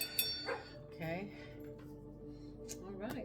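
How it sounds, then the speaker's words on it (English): Several dogs bark, yip and whimper in short irregular bursts indoors, moderately close but fairly quiet, mixed with a person talking. "Sorry about my dogs,"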